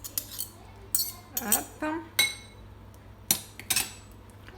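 Spoonfuls of fromage blanc are scooped and tapped into a dish, making a series of sharp metallic clinks and scrapes, spaced irregularly and heard close, with a brief spoken word between them.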